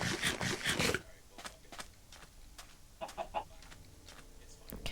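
Chicken clucks in a Minecraft world come in a few brief soft bursts after a louder opening burst of game sound, with no talking.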